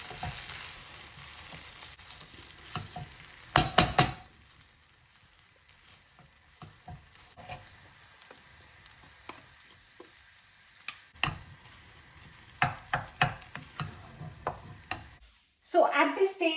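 Dabeli masala mashed in a pan: soft, irregular scraping and pressing strokes with a faint sizzle, a louder cluster of knocks early on and a brief clatter at the end.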